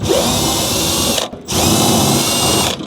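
A power drill or impact driver on a Tesla Model Y removes a 10 mm fastener during a mirror install, whirring loud and steady in two bursts with a short pause between.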